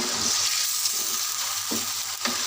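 Tomatoes go into a sizzling Peshawari charsi chicken karahi, a steady close hiss of frying with a couple of sharp surges as they hit the hot pan and are stirred, no voices present.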